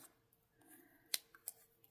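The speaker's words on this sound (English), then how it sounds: "I am kind of scoring that wax paper inside of my little thing here so that I can kind of gauge" Scissors score and snip wax paper in a small craft setup for a miniature pancake brunch scene: a few quiet, sharp cuts and scrapes, with two crisp snips standing out against near silence.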